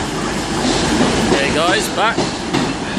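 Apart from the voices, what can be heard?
Class 150 train arriving at Exeter St David's station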